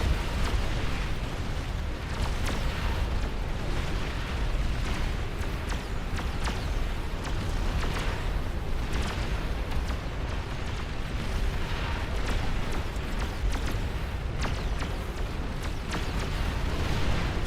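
Dense, continuous rumbling explosions and booms from a large battle in the real-time strategy game Beyond All Reason, loud and overlapping throughout with little pause.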